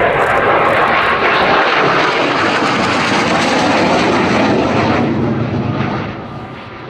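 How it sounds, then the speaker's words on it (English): Spanish Navy Harrier jet making a fast pass at the Farnborough airshow, a loud, sustained roaring jet engine that fills the air and then begins to fade near the end. "We're seeing a demonstration of fast passes, slow flight."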